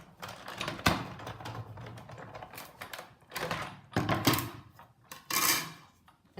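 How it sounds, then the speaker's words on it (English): A paper thanks sentiment being die cut with a scallop-edged circles framelit die in a manual die-cutting machine: uneven clicking and grinding bursts rise and fall over several seconds, fairly close, with no talking. "I'm going to die cut out the thanks."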